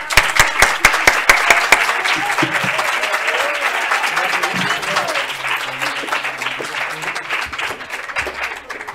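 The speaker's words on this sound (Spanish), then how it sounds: "me encantaría pediros un aplauso para ellas" Audience applause at the closing session of the ANIS 2021 congress, honoring the organizers: sustained crowd clapping with a few sharp individual claps at first, steady and fairly loud throughout, fading slightly near the end.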